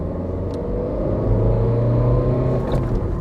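Tata Altroz 1.5 diesel car engine steadily rumbling and changing pitch through a gear downshift, heard from inside the cabin with no talking, a few faint clicks over the drone.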